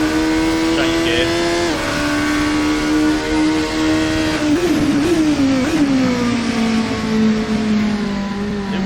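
Cadenza V8 Polaris race car in Assetto Corsa, its loud V8 engine droning steadily, then dipping in pitch through a couple of gear changes as it slows, with a voice talking over it.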